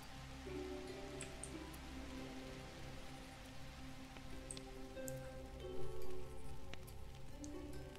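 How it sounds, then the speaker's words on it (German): Rain from rain clouds falls in the video game The Universim, a steady patter of drops hitting surfaces beneath a low background tone, with a brief louder swell near the end. "jetzt habe ich Regenwolken gemacht"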